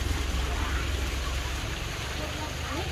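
Dense, constant rainfall hisses loudly, with a low rumbling wash underneath.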